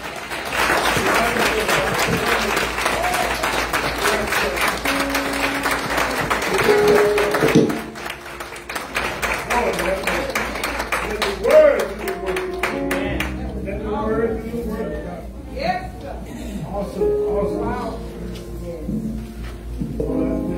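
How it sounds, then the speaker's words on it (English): A church congregation at a ministers licensing service claps hands in praise, with dense, loud clapping that thins and becomes more scattered as voices and music-like tones come through. "Let's give God another hand clap of praise for that word."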